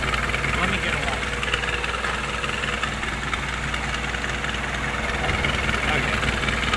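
An idling engine with a suspected exhaust leak near the EGR valve gives a steady, close rumble with a faint rhythmic ticking throughout, and no clear breaks.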